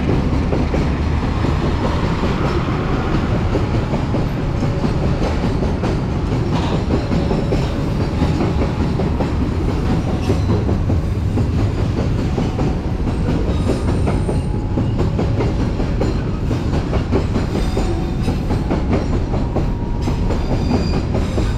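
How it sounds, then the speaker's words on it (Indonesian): A long freight train rolls past on the adjacent track, heard from a stopped passenger train, with a continuous loud rumble and steady clickety-clack of wheels running the whole time. "sebelah sana ada kereta barang"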